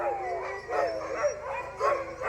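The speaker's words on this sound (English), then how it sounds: "So these are all sled dogs" A pack of older sled dogs on a homestead, once raced in the Iditarod, barks, yips and howls in overlapping bursts, with several close, loud surges of excited calling.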